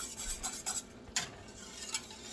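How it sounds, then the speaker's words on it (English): Spoon scraping and stirring thick banana pudding custard in a pot, a close series of short scrapes and soft clinks at an uneven rhythm, with no talking. "consistently stir this because you don't want this to start sticking on the bottom and burn"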